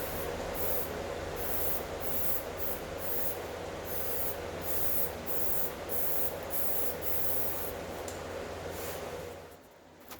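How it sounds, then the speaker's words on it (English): High build weld-through primer hisses from a spray can onto a bare car body panel during rust repair, a loud continuous spray broken by short pauses and bursts, with no talking. "It's finally dry enough to spray on the weld-through primer."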